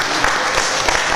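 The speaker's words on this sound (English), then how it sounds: "Let's clap it up." An evening lecture audience claps together, a brief burst of dense, fairly loud applause from a room of listeners with no talking over it.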